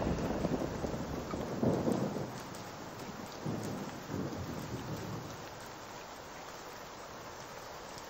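Rain falling steadily with rumbling thunder, the low booms swelling near the start and again midway before easing into a softer, continuous downpour.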